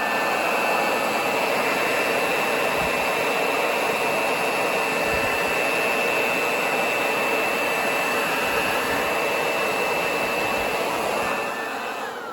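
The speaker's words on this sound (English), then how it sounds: "the blower is really loud, and to have a series of these would be super loud" Loud air blower running nonstop, a steady harsh rushing roar of air with a constant whine, unchanging throughout and close by.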